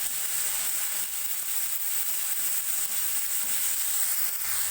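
Chicken frying with softened onions in a pan, a soft, even sizzle that runs steadily and fairly quietly with no talk.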